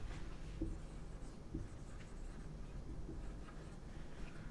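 Chalk or marker scratches and taps on a board as a physics definition is written out, producing faint, irregular strokes against quiet classroom room tone.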